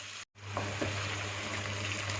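Mutton leg meat and onions fry in a pan for white mutton biryani, a continuous close sizzle with a low hum underneath, broken by a brief silent gap near the start, with no voices.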